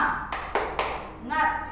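A few sharp claps in a classroom chant called 'tepuk semangat', struck in a quick rhythm with a voice chanting alongside, close and moderately loud.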